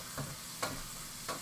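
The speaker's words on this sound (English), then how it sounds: "Sizzling bacon." Bacon sizzles in a frying pan, a soft steady crackle with three short scraping strokes of a spoon stirring it at uneven intervals, heard close and fairly quiet with no talking.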